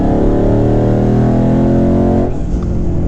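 A 2019 twin-turbo Ford Mustang accelerates hard, its engine roaring loud and close with a rising tone, then easing off abruptly near the end.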